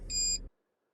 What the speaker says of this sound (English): pulls out the breakaway and the buzzer comes on